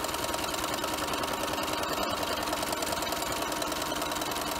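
A sewing machine runs steadily while sewing down the edge of a reversible fabric mask, a continuous close whirring hum with a fast rhythmic needle chatter and no pauses.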